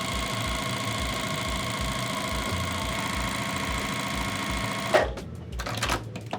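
A sewing machine stitching jelly roll fabric strips into a quilt strip set, a fast steady mechanical whirring with rhythmic needle pulses running for about five seconds, then stopping with a click followed by quieter handling noises.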